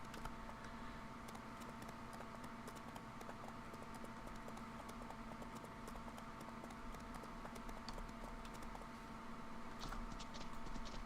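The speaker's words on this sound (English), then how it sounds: "The horse runs weird." Rapid clip-clop of a horse's hooves running in a ranch video game, a quick, even patter of light footfalls over a constant low background hum and faint clicks.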